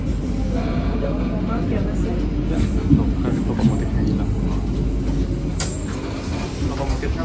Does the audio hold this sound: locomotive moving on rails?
yes